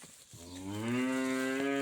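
A cow at a livestock market gives one long, loud, close moo that rises and holds steady, alone without talk.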